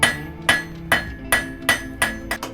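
A hammer strikes metal in a steady rhythm, about seven ringing blows close by, each clang sharp and bright with a short metallic ring.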